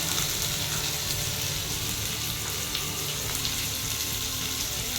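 Shallots and curry leaves sautéing in a pan, a steady close hiss and crackle of frying that runs continuously without pause.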